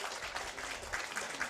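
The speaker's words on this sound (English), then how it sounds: "You all deserve a great applause." A crowd of football fans in Bologna, Italy, gives a brief round of applause at a Finland vs Great Britain game, a steady clapping wash that is fairly faint and distant.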